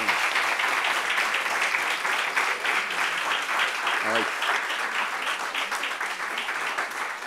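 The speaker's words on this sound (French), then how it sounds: "Alors, on peut applaudir pour elle." Audience applause for a young mother at a family reunion gathering, steady clapping throughout with a short spoken interjection partway through.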